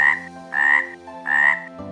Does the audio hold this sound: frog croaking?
yes